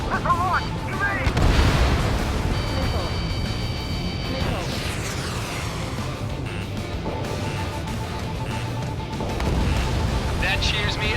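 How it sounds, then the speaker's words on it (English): Missiles launch and explode during aerial combat in Ace Combat 7, with loud rumbling blasts, whooshes and warning tones under a constant roar of jet noise, while voices talk over the action. "Missile launch! Evade!"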